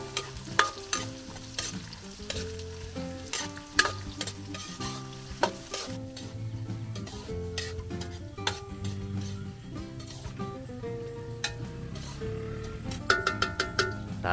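Onion, garlic and ginger sauté in a pan for Filipino pork innards batchoy with misua, giving a soft sizzle and clinks of stirring under louder background music.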